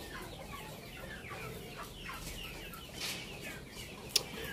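A parrot-beak Aseel longtail chicken clucks softly amid a rustling farmyard background, with one brief sharp chirp near the end.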